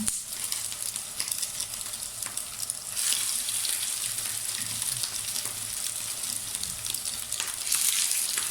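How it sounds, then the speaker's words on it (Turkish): Meatballs fry in a pan alongside tomatoes, giving a steady, fairly faint hiss and crackle of oil that swells slightly partway through, with no talking. "Bu arada köftelerimi de tavaya atayım. İkisi beraber pişecek."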